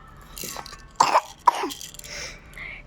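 Two or three close, short coughs with a throat-clearing sound, followed by quieter breathing.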